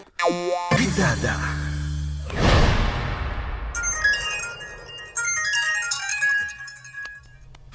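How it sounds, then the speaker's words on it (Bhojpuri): A phone ringing with an incoming call from the home number: a loud electronic ringtone melody with bright repeating tones and a clanging burst, continuing steadily for several seconds without talk. "फोन घर के नंबर से।"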